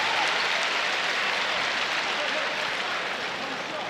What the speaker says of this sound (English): Applause going on for Tucker.